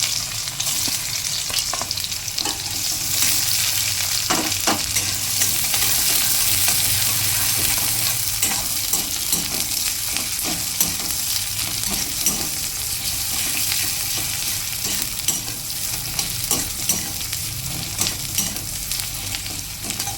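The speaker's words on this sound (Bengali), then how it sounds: "এরপর এই তেলে দিয়ে দেবো পেঁয়াজ কুচি" Chopped onion, with a pinch of asafoetida, fries in hot oil for a potato and snake gourd dish. The loud, continuous sizzle carries on throughout, broken now and then by faint stirring scrapes.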